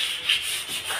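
Sandpaper scrubs over filled putty on interior walls near a bar counter during finishing paintwork, a steady close hiss of rubbing strokes with no one talking.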